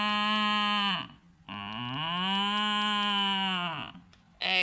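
A cow moos twice, close and loud: a short low call, then a long sustained moo that rises and holds before fading, with another call just starting at the end.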